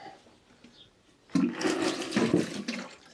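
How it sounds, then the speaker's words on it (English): Water is splashed onto damp cloths in a short burst, a quick wet spattering and trickle that starts abruptly after a quiet second and runs for under two seconds, close by. "To help the wicking process, I'm going to just sprinkle a little bit of water on them."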